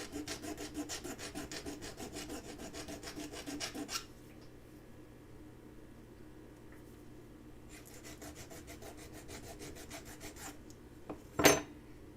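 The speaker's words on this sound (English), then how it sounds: "you're actually filing a hole into your piece" A hand file rasps rapidly and evenly across a small soldered metal jewelry piece, close and fairly quiet. It pauses mid-way, starts again, and ends with a sharp clink.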